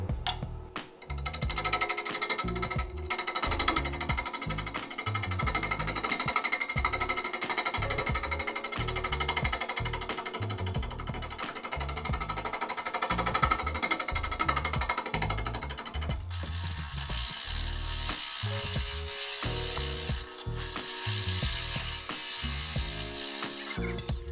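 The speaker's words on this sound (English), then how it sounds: "I'm actually going to switch over to my scraper." A wooden bowl spinning on a lathe while a scraper tool cuts it, giving a steady, loud, rattling mechanical drone with a rhythmic chatter that runs the whole time and shifts in tone partway through.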